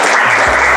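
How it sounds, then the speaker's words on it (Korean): An audience at a youth parliament lecture held at the National Assembly applauds in a loud, dense burst of clapping that fills this short moment. "큰 박수 보내드리면서"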